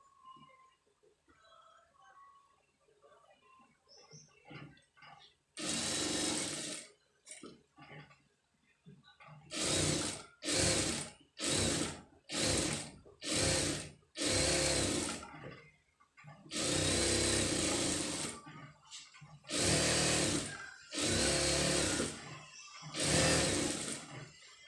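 A sewing machine stitches around the neck of an embroidered blouse in loud, close whirring bursts of several seconds each, separated by pauses with soft handling noises and faint talk.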